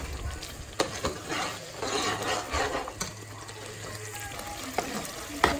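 Chicken frying and being stirred with ginger, garlic and spices for curry, a steady sizzle with scraping stirs and occasional utensil clinks close by.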